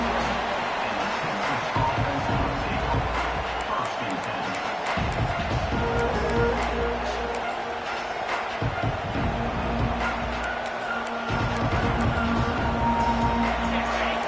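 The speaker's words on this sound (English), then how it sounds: "this crowd is fired up. Listen to this noise here." A loud, sustained roar of a large stadium crowd at an Ohio State versus Texas football game fills the whole stretch, with a steady wash of cheering and surging noise throughout.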